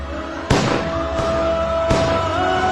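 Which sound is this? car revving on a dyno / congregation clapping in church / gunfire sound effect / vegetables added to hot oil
gunfire sound effect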